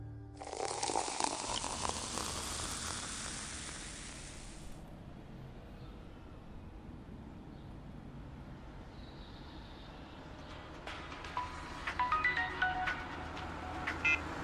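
A phone rings with an incoming call in a Tamil short film, a steady electronic tone for several seconds that then stops, leaving a faint rumbling background and a few clicks near the end.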